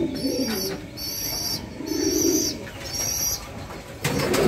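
Field pigeons coo in repeated low, soft phrases close by, with bursts of wing flapping breaking in between and a brief rustle near the end.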